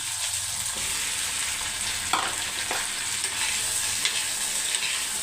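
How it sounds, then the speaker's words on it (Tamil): Tomatoes frying in a pan with half-sautéed onions for a village-style chicken curry, a steady close sizzle broken by a few sharp scrapes and clinks of stirring, with no talking. "இப்போ பார்த்தீங்கன்னா வெங்காயம் பாதி வதங்கிடுச்சு அந்த ஸ்டேஜில் வந்து தக்காளியை போட்டுக்கோங்க"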